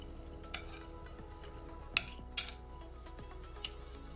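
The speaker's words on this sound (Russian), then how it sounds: "Перемешиваем." Salad being stirred in a bowl, quiet scraping movement with a few distinct metal-on-dish clinks spaced irregularly over a soft background.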